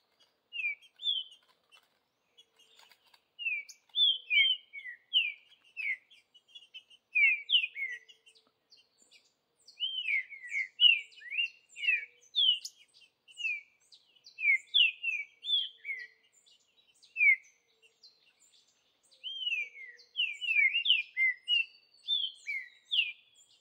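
A green-winged saltator sings in the woods, repeating short, clear whistled phrases in bursts with brief gaps between them, fairly near against a quiet background.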